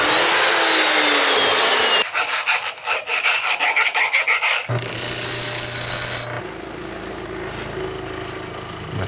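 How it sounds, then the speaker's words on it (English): Close, loud sanding of a metal J-bend piece for a drag caddy, starting as a continuous harsh rasp, then breaking into rapid rhythmic strokes, followed by a steadier grinding whir that drops to a quieter hum. "I'm gonna sand this a little bit, make it more round, make it more flat."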